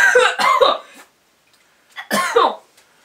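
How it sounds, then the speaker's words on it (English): A boy coughs after drinking Sioux City Berry Berry soda, a short burst of close, harsh coughs followed by a pause and a second cough or throat-clearing fit. "He just kind of was starting to cough a little bit."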